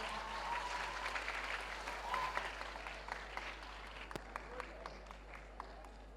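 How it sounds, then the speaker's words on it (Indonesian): Children at a character-building workshop applaud in a soft, fairly distant wash of clapping that thins out into a few scattered claps, with murmuring voices underneath. "Ya, boleh tepuk tangan anak-anak."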